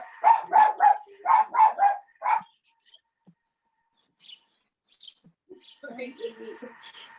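A dog barks at home during an online team cooking class, with two quick bursts of about three sharp barks each, followed by quieter scattered chirps and faint household sounds.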